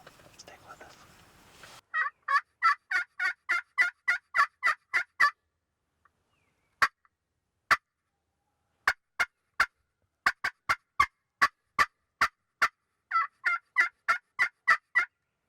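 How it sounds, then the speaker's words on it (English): Wild turkey gobbling in the woods during a hunt, several bursts of rapid rattling gobbles separated by sharp single clucks, fairly distant and clear against an otherwise quiet morning with no talk. "we heard a bird gobble over here just to our left"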